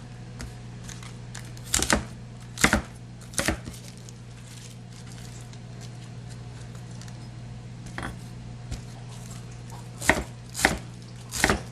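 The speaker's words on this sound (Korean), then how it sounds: "양파 3분의 1쪽도 이렇게 썰어주시면 돼요" A knife chops onion and cabbage on a cutting board while tripe hot pot is prepared. Short bursts of sharp chops come in clusters, with quiet pauses between them and a steady low hum underneath.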